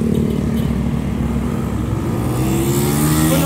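Steady stream of cars and motorcycles passing on a busy street at night in Tacloban, a continuous loud engine roar with rising revs near the end, no talking.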